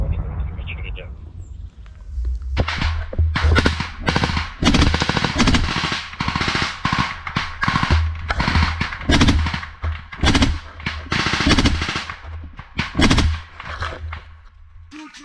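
Ukrainian troops in combat fire machine guns in repeated rapid bursts, loud and close, with short pauses between volleys and voices heard among the shots.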